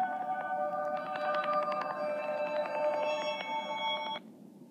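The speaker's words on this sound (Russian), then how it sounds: "Кто-то звонит." A phone rings with an incoming call, its bright repeating electronic ringtone pattern running steadily for about four seconds over background noise before it cuts off.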